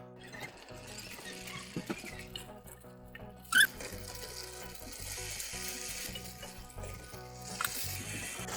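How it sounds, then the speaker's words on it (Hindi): Minced keema fries with yogurt in a karahi over a medium flame, a soft continuous sizzle and bubbling with occasional stirring scrapes and one sharp clink of a utensil, close and fairly quiet. "दही ऐड करने के बाद हम तकरीबन 10 से 15 मिनट मज़ीद कीमे को अच्छी तरीके से मीडियम फ्लेम पे कुक करेंगे"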